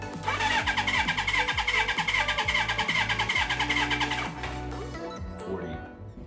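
A Suzuki GS1000 motorcycle engine cranks over on the starter during a compression test with a loud, close rhythmic churning. Around the four-second mark it winds down to a softer whir, and a voice talks briefly.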